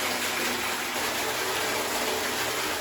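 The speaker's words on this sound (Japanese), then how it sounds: "洞窟の一番奥では、天井から湯が流れ落ちていました。" Hot spring water pouring from the ceiling deep inside a steam-filled cave bath at Haraduru Onsen, a loud, steady, unbroken gush of falling water close by.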